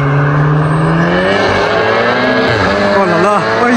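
A Golf 7R at stage 3 tune, about 528 hp, with an IPE straight-pipe exhaust roars by loud and close, its engine note sweeping up and down in pitch as it passes.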